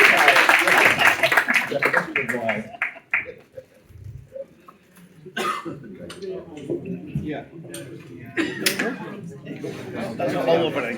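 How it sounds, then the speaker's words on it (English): At the close of a Psygnosis Software Q&A at a Zzap! Live event, an audience breaks into applause: a rough, dense patter of clapping that follows talk, swells in the second half and continues to the end. "Big round of applause,"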